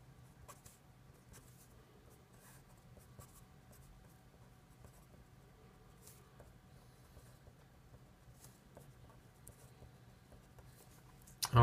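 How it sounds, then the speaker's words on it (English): Marker or chalk drawing a beam cross section on a board, faint intermittent scratchy strokes in a quiet room, ending with a sudden louder knock. "So we'll draw in the cross section again."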